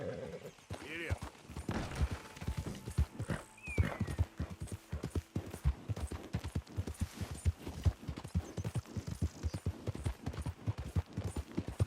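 Horse hooves clip-clopping at a steady trot in the Red Dead Redemption 2 video game, loud and close throughout, with occasional whinnies and distant gunfire, under spoken dialogue.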